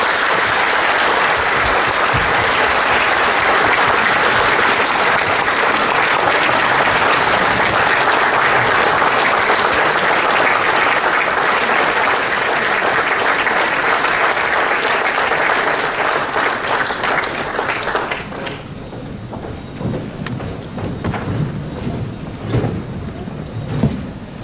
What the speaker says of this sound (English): So please join me with your loudest applause, Ravi Singh onto stage.